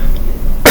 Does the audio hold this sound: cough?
yes